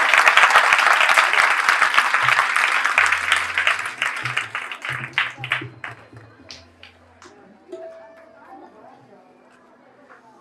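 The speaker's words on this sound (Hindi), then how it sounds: "मेरी आप लोगों से गुजारिश है कि भरपूर तालियों में भाई सलीम साहब का इस्तकबाल कीजिएगा" An audience at a Christmas evening celebration with widows breaks into loud applause to welcome a speaker, dense clapping that thins out into sparse individual claps over several seconds, with a faint voice and low hum beneath.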